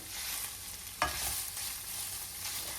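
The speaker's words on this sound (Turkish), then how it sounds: "Ve bu malzemelerimi bir iyice kavuruyorum." Chopped onions and green peppers sauté in a covered pan as filling for an aubergine dish, giving a steady, close sizzle with a brief louder crackle partway through and no talking.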